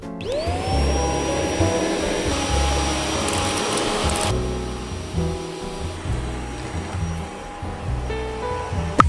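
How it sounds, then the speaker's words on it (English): A household vacuum cleaner runs continuously, a loud steady whine with a droning motor tone, shifting slightly as it is pushed around a room during home cleaning. "I'm gonna vacuum and clean the bathroom."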